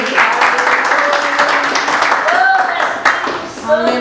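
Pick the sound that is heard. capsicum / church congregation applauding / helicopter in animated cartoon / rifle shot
church congregation applauding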